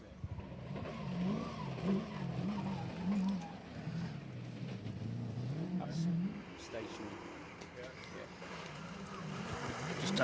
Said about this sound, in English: Just testing the throttle.